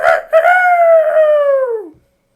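A voice imitates a rooster's crow, one long sustained harmonic call that slides gently downward and trails off at the end, loud and close, heard alone without other talk.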